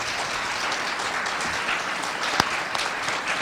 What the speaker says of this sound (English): let's give them a round of applause for being willing to serve